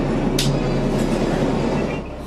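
Interior of a New York to Washington, D.C. passenger train running, a steady loud low rumble and rolling wheel noise with a brief hiss near the start, no voices.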